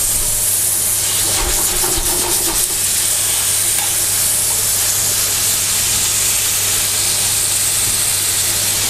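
Chicken fillet frying in a pan over high heat in a home kitchen, a steady loud sizzle and hiss with stirring scrapes early on and a constant low hum underneath.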